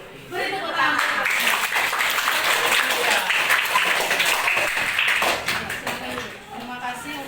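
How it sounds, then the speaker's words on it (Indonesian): Classroom applause for a student, a dense burst of many hands clapping together for several seconds before tapering off, with voices mixed in. "Oke, beri tepuk tangan."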